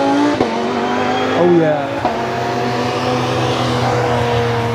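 Race cars drive past slowly under a yellow flag at the Nürburgring, with engine drones and shifting pitches close by, while someone speaks briefly over the noise.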